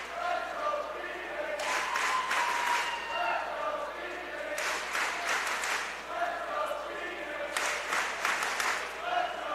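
Spectators and fellow swimmers cheer and clap at a high school girls' state swimming finals in Iowa, in three separate bursts of lively, echoing noise within a reverberant pool hall, with voices murmuring between them.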